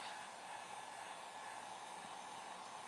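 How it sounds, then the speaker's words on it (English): A handheld heat tool drying a craft project, blowing a steady loud whooshing roar from start to end with no pauses and no voices. "I have my heat tool right here. We're going to dry these off."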